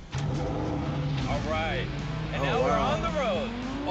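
A Lamborghini accelerates on the road from inside the cabin, its engine drone climbing steadily in pitch under people talking excitedly.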